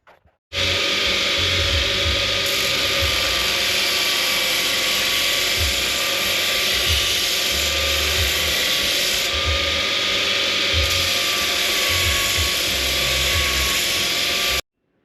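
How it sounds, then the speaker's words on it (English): A power tool cuts aluminium plate for a minibike seat, a loud continuous whining, grinding drone that runs steadily for about fourteen seconds with no talk. "that's the aluminium plate all cut out and bent"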